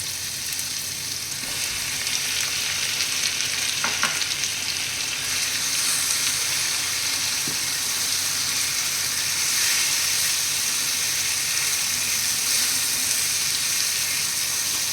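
Prawns fry in a pan with ground walnut paste and garlic for a chutney, a steady close sizzle and hiss that continues without pause, with a few faint clinks of stirring and no voices.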